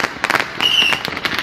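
Christmas fireworks crackle and pop in rapid bursts in Ayacucho, Peru, with a brief high whistle among the bangs, fairly close and loud.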